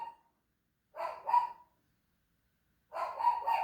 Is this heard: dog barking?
yes